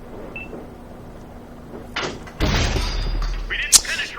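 A Jagdpanther tank destroyer fires its cannon in a tank video game: a single loud, deep blast hits midway and rumbles on, with a few smaller thuds and clanks before and after over low background noise.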